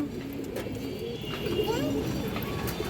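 Soft cooing from a silver Jabra male pigeon at a pigeon market, in low, rolling phrases under steady background noise, fairly faint and close.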